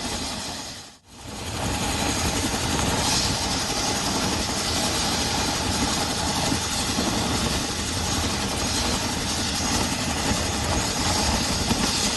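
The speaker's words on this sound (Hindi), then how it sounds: "चिनूक हेलीकॉप्टर से लगातार रेस्क्यू ऑपरेशन किया जा रहा है।" Chinook helicopter flying a rescue operation at Dharali after the Uttarkashi cloudburst. Its heavy rotor and engine roar stays loud and continuous after a brief dip near the start, with no speech.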